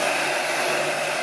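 Hair dryer blowing steadily to dry a purplish pink painted background, a continuous loud, even whoosh with no breaks and no talking.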